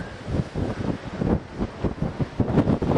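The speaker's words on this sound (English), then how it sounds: "Steve, it's absolutely so windy up here" Strong wind buffets the microphone in rough, surging gusts, a loud continuous roar that rises and falls with no speech.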